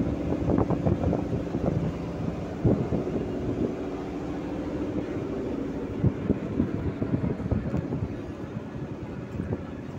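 A motorized bhotbhoti boat pulls away with a steady low engine drone and chugging thumps, close and continuous, with wind buffeting throughout.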